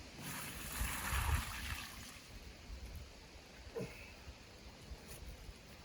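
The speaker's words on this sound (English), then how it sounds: "We're going to pour about half the water on." Water poured onto a campfire to put it out: a soft splashing gush, loudest at first, then fading to a quiet trickle and hiss with a few faint drips.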